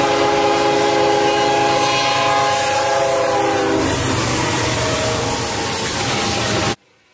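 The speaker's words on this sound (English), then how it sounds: "a Galesburg to Lincoln manifest headed westbound passes us" A westbound Galesburg to Lincoln freight manifest train rolls past at South Bend, Nebraska, loud and close, with a sustained horn tone over the rumble and clatter of cars before it cuts off abruptly.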